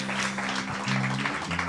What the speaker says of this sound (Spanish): Denle una ofrenda de palmas al que vive, al que reina por los siglos de los siglos.